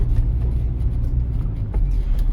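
A car driving along a city street in Zhytomyr during a driving exam, with a steady low engine rumble and road noise heard close up from inside, constant and unbroken.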